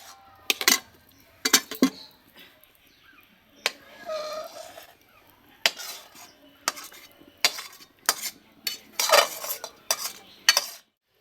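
A greased steel plate handled while making mango leather gives sharp metallic clanks and scrapes in irregular bursts, close and fairly loud, with quieter rustling between hits and no talk.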